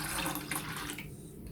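Saffron-infused water poured into a mixing bowl while preparing Moroccan chebakia, a steady close splashing stream for about a second that then thins out, with no talk.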